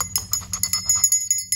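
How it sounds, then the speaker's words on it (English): A small bell rings in a quick run of bright, tinkling strikes, about a dozen light metallic hits in fast succession, close and clear with nothing else around them. "Where's my bell?"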